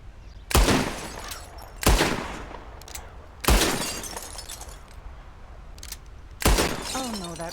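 Four loud, sharp gunshots from a firearm in Red Dead Redemption 2, spaced a second or more apart, each followed by a ringing decay, with a faint voice fragment after the last.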